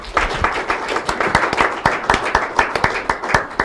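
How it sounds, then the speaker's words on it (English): An audience claps for a woman called up on stage at a Nigerian public event, a close, loud patter of many hands with sharp individual claps standing out, lasting throughout. "Make una clap for her."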